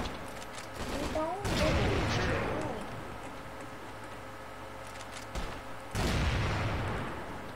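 Gunfire from a weapon in the online shooter game Crossfire, loud bursts of shots at the start and again near the end, with a quieter stretch between.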